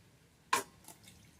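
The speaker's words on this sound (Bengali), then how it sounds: "দেখো বন্ধুরা, আমি এখন মাংসটা ধুয়ে নিচ্ছি" Water splashes once while raw chicken meat is washed, a single short, close drip-like splash with a faint trickle after it.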